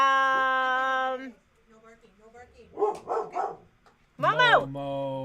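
Momo, a dog at a vacuum and sewing shop livestream, lets out drawn-out, whining howl-like barks at the start and end, with a few shorter yelps between, fairly close.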